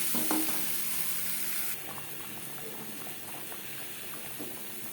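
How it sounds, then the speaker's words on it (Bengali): Boiled potato halves fry in oil with salt, turmeric and red chili powder, giving a soft, steady sizzle with light stirring scrapes, fairly quiet and close, with no talking. "লবণ হলুদ সামান্য পরিমাণে লাল লঙ্কার গুঁড়ো দিয়ে আলু ভেজে নেব"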